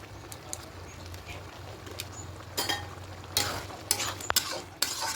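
Chickpea dal with potato, cooked with ghee and garam masala powder, is stirred in a pot: soft bubbling simmer under a low hum, with several sharp scraping stirs and clinks toward the end.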